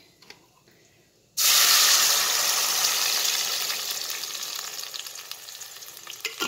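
Tomato juice hits hot oil in a pot and bursts into a loud, steady sizzle after a quiet start, slowly easing over several seconds with light spatters near the end.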